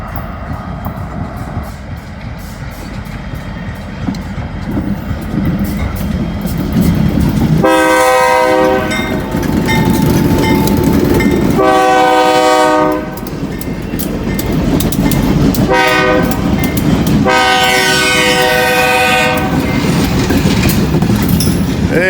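A BNSF freight train passes close by, its wheels rumbling loudly and steadily, and its air horn sounds in three long, loud blasts. No one talks.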